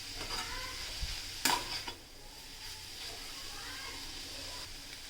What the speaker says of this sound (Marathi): ही भाजी आपण अशीच थोडा टाइम शिजवून घेऊयात